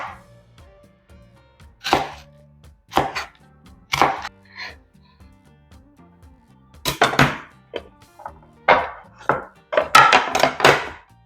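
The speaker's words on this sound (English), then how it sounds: "I'm just going to do a simple julienne cut." A knife makes a julienne cut through vegetables on a cutting board, producing a series of sharp, distinct chops in uneven clusters, close and clear with no talking.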